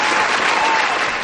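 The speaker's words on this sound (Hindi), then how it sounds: "जोरदार तालियां प्लीज।" Loud applause from a studio audience at a talent show, dense and even clapping throughout this short stretch, with no break and no voices standing out.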